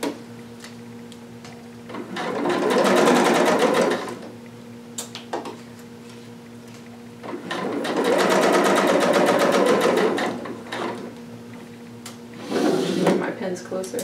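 A sewing machine stitches fabric lining for a Vogue 2530 garment. It runs in three separate bursts of fast, even mechanical whirring with short pauses and small clicks between them, close and loud.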